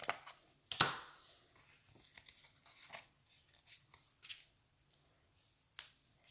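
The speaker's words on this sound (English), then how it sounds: "now I'm going to snip my foam pads like so." Scissors snip foam pads in a series of crisp, quiet cuts, one sharper snip early on followed by lighter irregular clicks and rustles, close and isolated.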